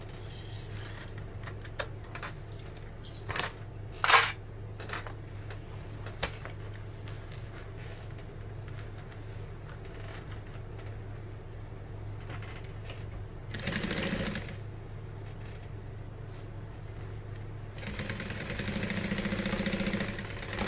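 A sewing machine top-stitches a vintage barrel bag. Short, faint bursts of stitching come in brief runs separated by quiet pauses, with a longer whirring run near the end over a low steady hum.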